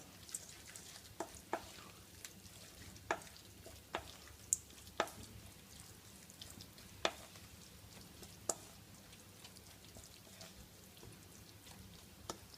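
Pine nuts are stirred around a frying pan, making quiet scattered taps and scrapes over a soft, steady low sizzle, with no talking.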